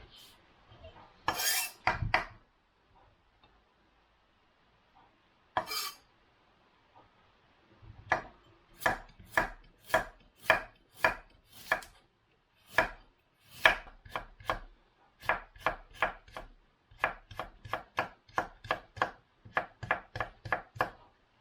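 A knife chops cabbage and carrot on a cutting board for japchae, a few scattered cuts at first, then a quick, steady run of sharp, close knocks against the board.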